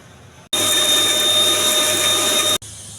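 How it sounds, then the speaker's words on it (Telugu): A mixer grinder blending tomatoes whirs loudly and steadily for about two seconds, starting and stopping abruptly, with a high whine over its motor roar. "ఈ టమాటా మిక్సీ చేసుకోవాలండి."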